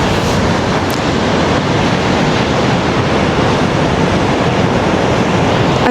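Rough sea waves roll into a coastal harbour in the UK on a cold day, a loud, unbroken wash of surf mixed with wind buffeting close to the microphone.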